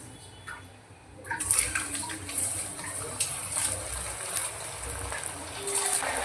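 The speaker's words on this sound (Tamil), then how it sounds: "மீடியம் ஃப்ளேமில் வச்சுட்டு பொரிச்சு எடுத்துக்கலாம்" Potato bites deep frying in hot oil over a medium flame, a steady broad sizzle that starts abruptly after a quiet second and then keeps hissing and crackling close by.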